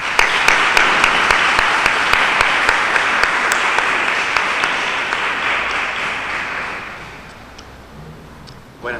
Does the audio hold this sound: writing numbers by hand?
no